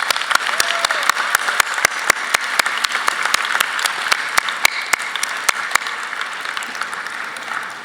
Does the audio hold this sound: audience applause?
yes